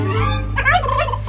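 A turkey gobbles once in a loud, close, rapid warbling burst lasting about a second.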